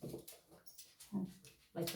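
A pet dog whimpers and whines softly in short bursts in a home kitchen while being handed leftovers from a child's plate, fairly quiet and close.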